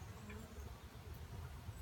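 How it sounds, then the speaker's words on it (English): Honeybees buzz faintly and continuously around an open hive during an inspection, a soft, steady drone close by. "I got a bee buzz in my head here."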